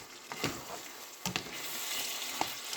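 Ground round browning in a skillet with a little olive oil, giving a soft, steady sizzle broken by a few sharp scraping stirs.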